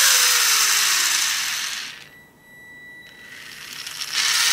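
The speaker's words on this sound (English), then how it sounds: "Now it's checking the opposite motor." A small Asuro robot kit's geared electric motor whirs steadily during its self test, loud and close with a high mechanical whine, dropping briefly mid-clip before spinning back up.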